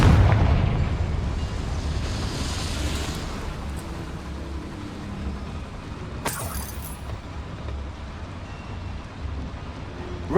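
A fiery Confringo blast spell from Hogwarts Legacy erupts with a sharp, bright burst midway, set against a constant rumbling game backdrop of low booms and ambient noise, with no voices.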